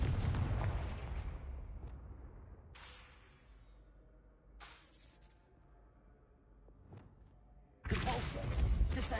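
Confringo blasting spell cast in Hogwarts Legacy, a sharp explosive burst that fades into a long rumbling decay, followed by a few softer magical whooshes and another loud blast near the end.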